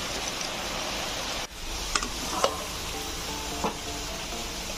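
Ripe okra frying in a pan makes a dense, even sizzle, steady and close, broken by a few short scraping stirs and taps.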